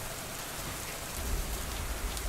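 Heavy rain pours down in a dense, steady hiss of drops striking surfaces, with a low rumbling swell building in the second half.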